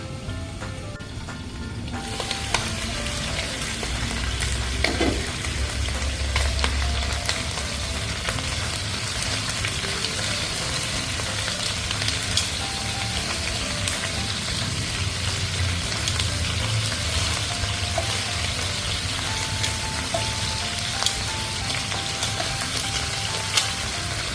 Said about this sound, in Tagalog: sigigisa yung mga aromatics